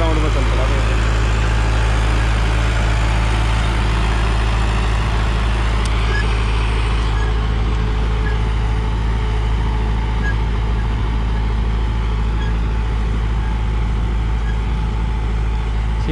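A Preet 6049 Agritrac tractor with a synchromesh gearbox runs its diesel engine on a 200-metre test loop, a loud, continuous low rumble that holds steady throughout, heard close without pause.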